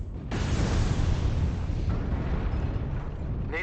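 Artillery strike explosions in the mech combat game MechWarrior Online: one heavy blast bursts in suddenly after a brief quiet moment and rumbles on as a dense, loud roar for several seconds. A short, sharp effect comes at the end.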